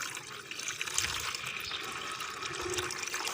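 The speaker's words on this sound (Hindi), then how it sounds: "अब हम गुड़ के पानी को अलहदा कर लेंगे छन्नी की मदद से।" Jaggery water pours through a sieve in a kitchen, a continuous close splashing trickle of liquid that runs steadily and fairly loud throughout, with no talking.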